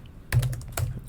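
Fingers tapping out an email on a computer keyboard, a quick burst of close, crisp key clicks in two clusters with a brief pause between.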